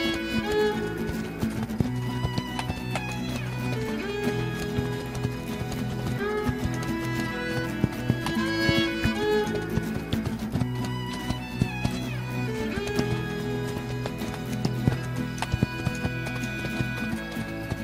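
Hoofbeats of the horse Spirit galloping in the video game Spirit Lucky's Big Adventure, a steady rhythmic clip-clop with an occasional whinny, playing continuously under a loud musical score.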